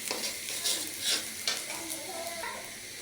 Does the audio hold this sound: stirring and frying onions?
yes